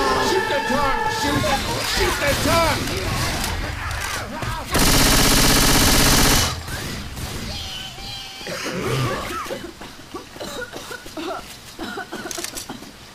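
Gunfire in Left 4 Dead 2 crackles in rapid bursts amid game clamor and a loud sustained roar, with players shouting over the action.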